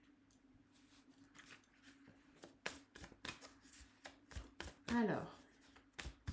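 Tarot cards being shuffled by hand, a quick run of close, crisp riffling flicks and one longer whooshing riffle, with a voice speaking briefly.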